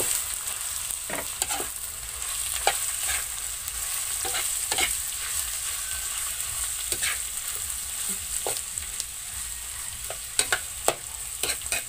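Bamboo shoots (dabong) sautéing with garlic in a pan, a steady sizzle throughout with repeated sharp scrapes and knocks of a utensil stirring, no voices.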